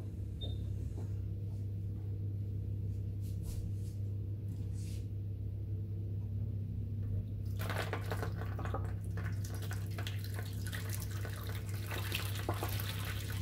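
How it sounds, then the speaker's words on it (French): Very hot water is poured into a kitchen bain-marie around ramekins of crème renversée, a splashing, trickling flow under a steady low hum that grows louder and brighter partway through. "Pour remplir le bain-marie, pour être sûr de ne pas mettre de l'eau dans les récipients."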